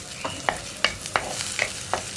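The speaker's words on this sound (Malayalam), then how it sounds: "നമുക്കിതിലേക്ക് പച്ചമുളക് ചേർക്കാം" Green chilies tossed into a pan with hot ginger for a Kerala kumbalanga (ash gourd) milk curry give a soft sizzle, broken by several sharp spoon scrapes and taps in an uneven rhythm, close and moderately loud.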